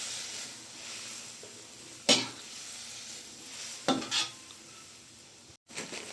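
Bean sprouts, cabbage, carrot, ginger and chili stir-fried in a pan, with a continuous sizzle broken by a few loud clanks and scrapes of a utensil against the pan.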